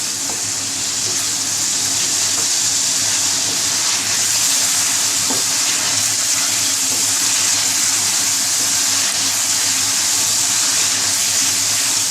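Chicken coated with ginger garlic paste fries in a pan for aloo chicken curry, giving a loud, steady sizzling hiss that holds evenly throughout with no speech.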